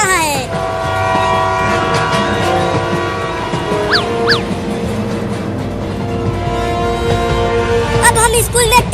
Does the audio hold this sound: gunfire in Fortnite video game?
no